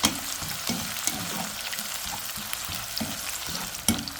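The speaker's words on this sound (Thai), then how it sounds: "ทอดไฟกลางๆ ค่ะ ทอดไฟกลาง" Sliced shallots frying on medium heat for a sweet fish-sauce dip, a constant crackling sizzle close up, punctuated by a few sharp spatula knocks and scrapes.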